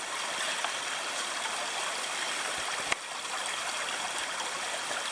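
Creek water flowing over a trail during rain, a steady broadband rush and trickle heard close up and continuously, with one brief knock midway and no talking.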